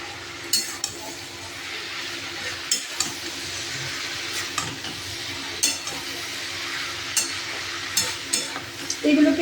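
Potatoes and pointed gourd fry in oil in a pan while being stirred, a steady sizzle broken by repeated spatula scrapes and clinks against the metal.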